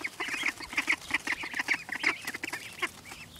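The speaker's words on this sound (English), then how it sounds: "5 little ducklings." Five young ducklings peep and chirp in an outdoor brooder, their high calls coming in quick, repeated bursts at close range with no talking.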